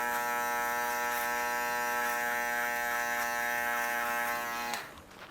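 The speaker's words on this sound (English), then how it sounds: "And now you can just come in with your fold shaver," Electric foil shaver buzzing steadily as it cuts hair during a barbershop taper fade, a loud close hum that holds for several seconds and then cuts off abruptly.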